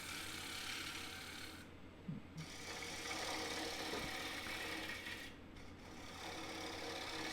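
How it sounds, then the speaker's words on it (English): Bowl gouge taking a light cut on a wooden bowl spinning on a lathe, a steady close rasping hiss with the bevel rubbing, briefly easing off twice before resuming. "here I'm rubbing the bevel lightly and just gently picking up the cut"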